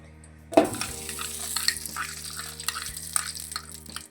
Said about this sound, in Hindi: अब मैं इसके अंदर डालूँगा 5 टेबलस्पून मैंने डालने हैं घी के